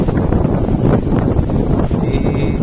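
Strong wind roars during a heavy rainstorm with thunder in Tanjung Duren, Grogol, Jakarta: a loud, constant buffeting rush that fills the whole stretch without letup.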